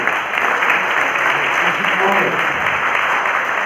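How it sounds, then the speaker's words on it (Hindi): An audience at a business consultation training session breaks into loud, dense applause that fills the whole stretch, with a voice briefly audible beneath it. "जोरदार तालियां होनी चाहिए"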